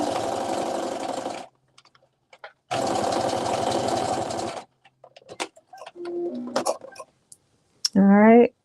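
Sewing machine running in two long, loud bursts as it stitches a side seam on a sweatsuit top, with quiet gaps and small clicks between them and a short higher mechanical whir at the end.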